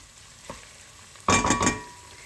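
Cold paste hitting a hot pan and being stirred for a Turkish eggplant dish, a sudden loud burst of sizzling with quick scraping strokes after a brief soft tap, close and prominent.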